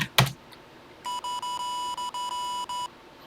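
A Texas Instruments TI-99/4A home computer sounds a string of 1000 hertz beep tones, each about 100 milliseconds, nearly running together in a steady pulsing burst after a brief knock.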